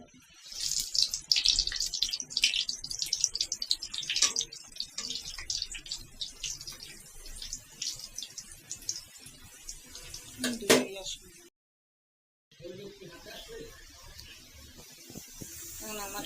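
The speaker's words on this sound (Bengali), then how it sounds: "এপাশে আমি তেল গরম দিছি। আমার তেলটা গরম হয়ে গেছে। এখন একটা একটা আমি সেঁকে নিব।" Luchi deep-frying one at a time in hot oil, a dense, crackling hiss of bubbling oil that runs almost throughout, briefly cutting out before resuming, with a voice faintly in the background.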